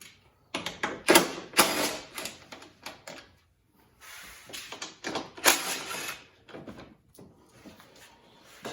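Ratchet removing 10mm panel bolts on a John Deere 2038R compact tractor, heard as bursts of clicking and clattering metal with short gaps between them, fairly close and without talk.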